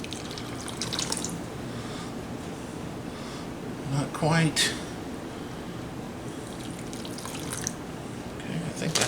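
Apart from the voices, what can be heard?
pouring tequila lime marinade into sous vide bags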